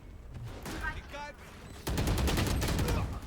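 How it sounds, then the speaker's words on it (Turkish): Rapid bursts of automatic gunfire crackle in a shooter video game, building into a dense, loud volley in the second half after a quieter start with a brief voice. "bütün mermiler adamın kafasının üstünden gitti"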